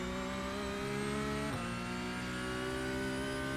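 Porsche 992 Cup race car engine in iRacing at Sebring, a steady, close mid-pitched drone holding high revs with a brief dip and shift partway through, constant and loud throughout.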